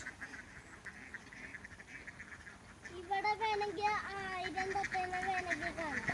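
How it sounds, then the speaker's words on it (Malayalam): Large flock of around a thousand ducks at a paddy field in Ayinichira, Marancheri, quacking in a dense, overlapping chorus that swells loud partway through, with people talking over it. "ആയിരൊക്കെ ഉണ്ടാവും ഇപ്പോൾ താറാവ്"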